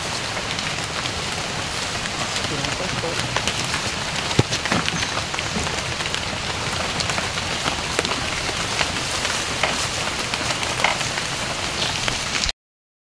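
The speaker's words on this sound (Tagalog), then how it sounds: "Medyo naambon." Light rain patters steadily and evenly on surfaces around a hut near avocado trees, a soft close hiss with occasional louder drops and no talk.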